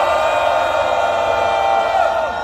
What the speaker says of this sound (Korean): 그 많은 해외 동포분들 위해서 큰 함성 한번 화답으로 돌려줍시다.